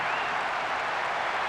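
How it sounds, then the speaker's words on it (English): Steady, dense crowd roar filling a stadium in the PS2 football game PES 6 as the referee blows the final whistle of a drawn match, loud and sustained without breaks. "A huge roar from the crowd as the referee blows the final whistle."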